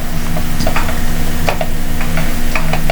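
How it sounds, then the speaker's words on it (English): A spoon stirs ridge gourd thoran in a pan, with close scraping and clicking strokes repeating over a faint sizzle. "Just give it all a nice mix, and our dish is almost done."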